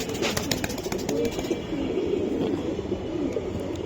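Giribaz pigeons coo steadily at a busy pigeon sale, a low rolling murmur from many birds mixed with scattered chirps and fluttering, fairly loud and continuous with faint crowd noise behind.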